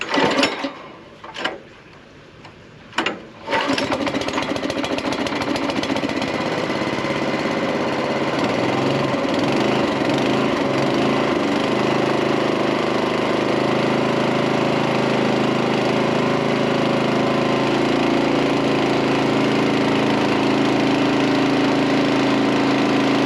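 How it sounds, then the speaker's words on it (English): A homestead engine, likely a water pump filling a 130,000-litre tank, runs loud and steady after a few brief starting bursts, a continuous mechanical drone that holds through the rest of the clip. "I hope you guys can hear me over the noise of the engine"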